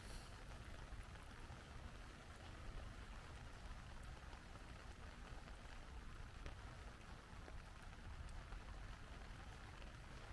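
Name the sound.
rain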